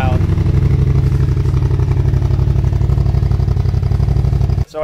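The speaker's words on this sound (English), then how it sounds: "I still don't know how I feel about the exhaust without a baffle." A naked motorcycle running with no baffle in its exhaust, very loud and close, with a deep, steady throbbing rumble that holds for several seconds before cutting off abruptly.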